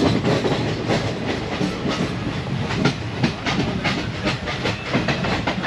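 Inside a slow-moving passenger train near a window seat, a steady rumble runs beneath regular clickety-clack wheel beats over the rail joints. The sound is loud and close, and no one talks.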